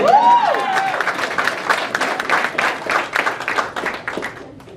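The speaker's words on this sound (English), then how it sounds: "I need a clap after that." Press conference audience at the Magic City Classic breaking into applause, a brief whistle-like tone at the start, then steady moderately loud clapping from a room of people that gradually thins out.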